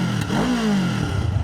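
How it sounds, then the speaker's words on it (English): A 2025 Kawasaki Ninja 500 motorcycle fitted with a race exhaust revs once from idle, the engine note rising and falling quickly, loud and close. "Let's give it a little rev."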